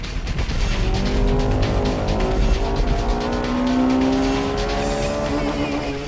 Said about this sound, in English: Here comes the Integra R.